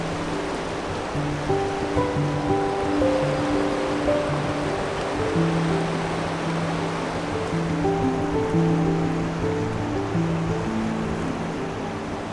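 The Merced River in Yosemite rushes in a steady broadband wash, continuous and fairly loud, with a faint tonal hum running underneath.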